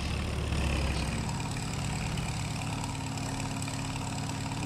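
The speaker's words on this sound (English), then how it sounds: "We're gonna get our big feed mixer truck out here." A big feed mixer truck idles in Farming Simulator with a steady low engine drone that runs unbroken throughout. No voices.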